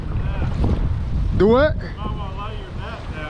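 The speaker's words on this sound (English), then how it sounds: "God, that wind picked up." Strong wind roars continuously across the microphone on open water during a bass fishing outing from a paddled boat, a steady low rumble with people talking over it.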